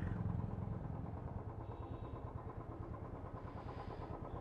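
A motorcycle engine idles steadily nearby, a low even chugging throbbing throughout with no other sounds.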